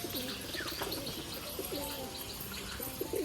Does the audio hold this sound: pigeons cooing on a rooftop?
yes